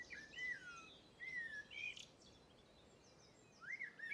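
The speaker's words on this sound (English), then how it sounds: "the birdsong is fantastic" Several birds chirp and trill in short bursts at an Irish nature reserve, faint and somewhat distant over a soft hiss of outdoor background.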